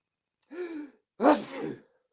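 A sharp inhaled gasp followed by a forceful sneeze, close and clear, with no talking.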